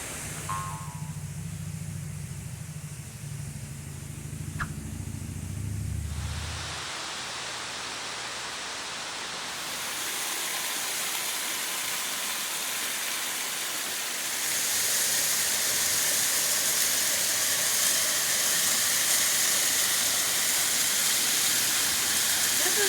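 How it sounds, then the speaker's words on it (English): Waterfalls at New River Gorge National Park roar as a broad, steady rush of falling water that grows louder and fuller as the listener approaches, with a low hum at the very start. "Look at these waterfalls."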